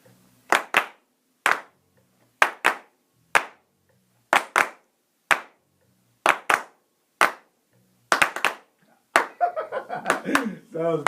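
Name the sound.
group clapping together in time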